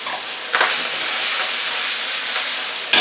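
Spring onions in large pieces sizzle steadily in a pan for a salmon cucumber curry, a loud, even hiss of frying close by, with no voices.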